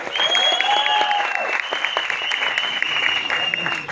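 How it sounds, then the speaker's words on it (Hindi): Audience clapping at a film trailer launch event, a loud continuous burst of applause with cheering, whistles and crowd voices riding over it. "तालियां बजाइए अपने भारत के लिए"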